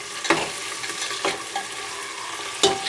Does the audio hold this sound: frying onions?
yes